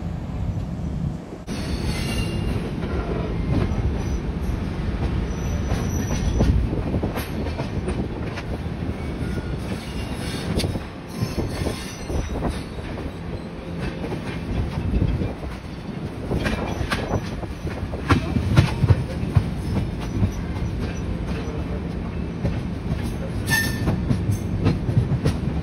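Shatabdi Express train on platform 6 at Coimbatore Junction, with steady rumbling rolling stock, clattering wheels and occasional high wheel squeals carrying on continuously and loudly throughout, no talking.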